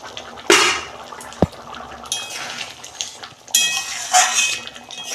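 A lid clanks as it is lifted off a pot of chana masala, with a sharp metallic clink and then a bubbling, hissing simmer close by.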